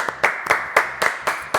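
A small audience on a French children's show claps in a short burst, with several distinct sharp claps coming in a quick, uneven rhythm.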